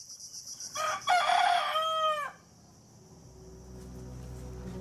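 A rooster crows loudly and close by at a village in Malaysia, one long rising-and-falling call that breaks off after about two seconds and leaves a quiet outdoor hum behind it.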